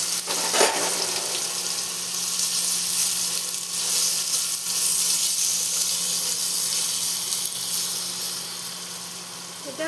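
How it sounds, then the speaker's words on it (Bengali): Potato pieces dropped into hot white oil in a pan, a loud, dense, steady sizzle and hiss throughout, close up with a faint low hum beneath. "এটা হালকা লাল করে ভেজে নেব।"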